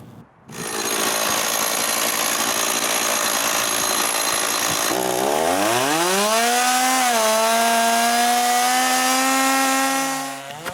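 A chainsaw mill roars as it cuts planks from apple wood, starting abruptly and running loud and close for about ten seconds, the engine pitch dropping then settling and rising slightly under load as the bar bites into the log.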